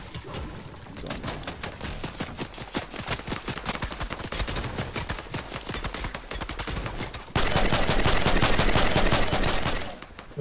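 Rapid, loud bursts of video game gunfire in a multiplayer shooter, sustained and dense for about ten seconds, ending in a heavier continuous stretch of fire before cutting off.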